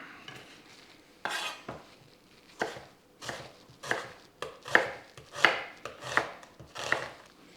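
An onion is chopped with a knife on a board, about nine distinct crisp thuds spaced roughly half a second to a second apart, getting slightly louder and more regular toward the end.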